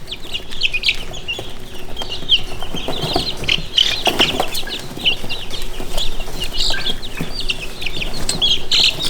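A group of young Yokohama bantam chicks gives rapid high cheeps and soft clucks almost without a break, loud and close, with brief rustling among the calls.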